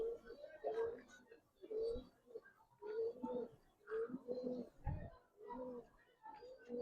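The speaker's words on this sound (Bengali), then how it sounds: "ভাই এটা একটা মাদি কবুতর, কাজ করা মাদি কবুতর" Giribaz highflyer pigeons, including a female working bird, coo close by in a steady series of soft, low, throaty calls repeating about once a second.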